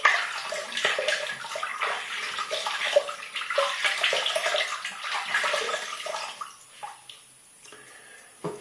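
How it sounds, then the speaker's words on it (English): Water splashing as a face is wet before shaving, continuous running and splashing water close by, easing into scattered drips and small splashes toward the end. "I'm going to wet my face."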